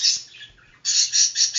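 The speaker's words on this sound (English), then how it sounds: "lovebirds are noisy but not loud" Lovebird chirps ring out clearly in a sharp, high chattering burst, pause briefly, then come again as several quick close calls, near and fairly loud with no talk.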